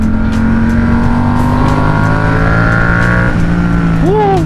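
A Triumph Trident 660 three-cylinder motorcycle engine pulls hard under acceleration, a loud, close, continuous drone that climbs in pitch and ends in a quick rising sweep.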